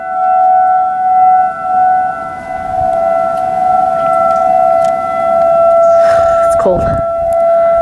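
A civil defense tornado siren sounds during a monthly test on a snowy day, a steady loud wailing tone with a rising and falling sweep, while a person briefly speaks over it.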